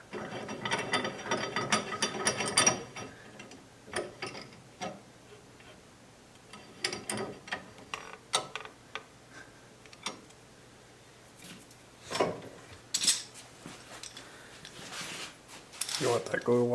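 A ratchet clamp clicks and ratchets in irregular bursts as it is tightened down on the neck of a scratch-built electric guitar, moderately close, with quiet gaps and faint speech between the bursts of clicks.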